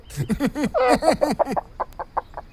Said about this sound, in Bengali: একটা মুরগির বাচ্চা ককর্ক করতে করতে কোত্থেকে ছুটে এসেছে